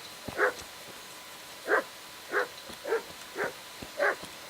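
Dog in Kingdom Come: Deliverance barks six times at an uneven pace, moderately loud over a faint background hum.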